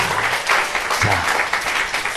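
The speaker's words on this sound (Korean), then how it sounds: "우리 서재희 목사님 나오실 때 박수로 한번 환영합시다" A church congregation at a youth union worship service claps together to welcome a pastor, a dense, continuous burst of applause filling the room with faint voices beneath it.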